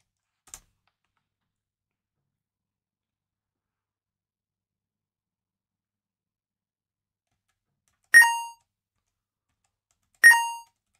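Point chime from a homemade Snake game as the snake eats an apple: two short, bright electronic dings about two seconds apart, clean and alone after a faint click, with no talking.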